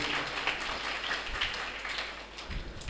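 A church congregation at a feast-day Mass claps in thanks, a steady wash of applause at moderate distance that stays even throughout.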